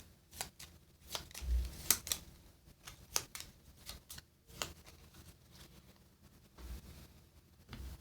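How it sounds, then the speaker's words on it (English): Cards for the Dragon Eclipse board game shuffled by hand, a run of quick papery riffles and taps with a few sharper snaps, close and soft, with no voices. "these need to be shuffled"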